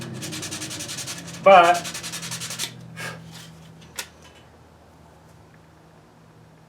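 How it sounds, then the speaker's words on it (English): Rapid scratchy fine-sanding strokes rub back and forth up close on a wooden fishing lure, then stop; a brief spoken word and a few light knocks follow before near silence. "I still have a little bit of fine sanding to do"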